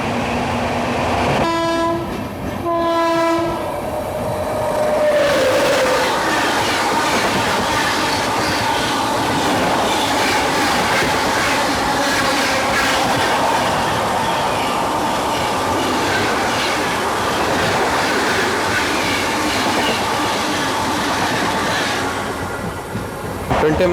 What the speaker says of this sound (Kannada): 20 ಮಿನಿಟ್ಸ್ ಆತ ಟ್ರೈನ್ ಹೊರಟ